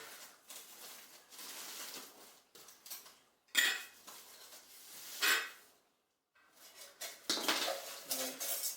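Metal camping cook kit, including a 500ml titanium pot, being handled and rattled in a few separate clinking bursts with quiet pauses between, close and fairly soft.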